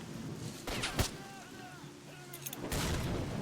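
A grenade goes off in S.T.A.L.K.E.R.: Shadow of Chernobyl with a sharp, booming burst, followed by a second blast moments later over a dim game ambience.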